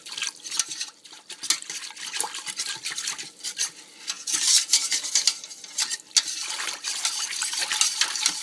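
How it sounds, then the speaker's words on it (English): A utensil stirs a tapioca dessert mixture in a pot or bowl, giving repeated scraping and clinking strokes with light liquid swishing. The strokes come close and irregular, with no talking. "I'm just going to stir that until it's all dissolved."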